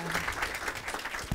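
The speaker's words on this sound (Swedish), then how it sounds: "en applåd." Brief applause from an audience at a school software release event, a soft, steady patter of clapping heard at a distance and fairly faint.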